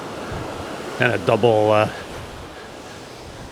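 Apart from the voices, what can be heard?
ocean waves breaking on a beach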